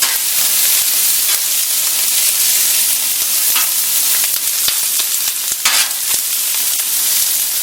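Ground beef fajitas sizzle steadily on a Blackstone flat top griddle, a loud continuous frying hiss with occasional sharper crackles and scraping stirs, and no voices.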